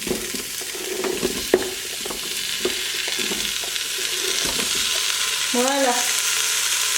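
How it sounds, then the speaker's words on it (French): Onions frying in a soup pot and stirred regularly with a spatula, giving a steady close sizzle broken by scraping clicks, with a brief spoken word near the end. "à l'aide d'une spatule, régulièrement, je vais venir bien les brasser"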